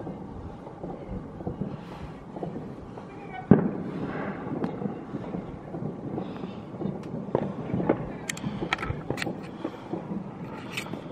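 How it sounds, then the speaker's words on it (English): Repeated booms and crackling pops of New Year fireworks at a distance, a sharp bang early on followed by irregular bursts, with voices in the background. "We'll try and catch the fireworks, no promises."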